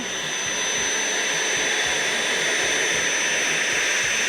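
A DeWalt DCV501LN cordless vacuum cleaner runs at a steady, loud, high-pitched whine with an even rushing airflow hiss that stays unchanged throughout, close up, with no voices.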